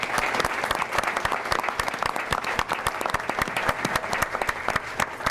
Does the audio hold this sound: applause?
yes